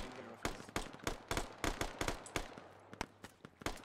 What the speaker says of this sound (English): It's a machine gun rifles.